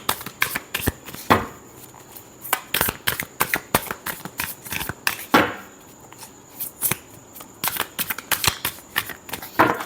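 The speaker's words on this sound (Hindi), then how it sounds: "Last shuffle." A tarot deck being shuffled by hand, repeated close, sharp riffles and card slaps in irregular bursts with short pauses between them.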